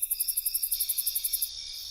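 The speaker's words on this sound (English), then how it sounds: "crickets." Crickets chirp in a fast, steady pulsing rhythm, bright and close, before the chirping fades into a softer continuous trill.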